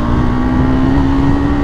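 A steady KTM Adventure 390 motorcycle engine hums loudly and continuously with a constant pitch, close and without breaks.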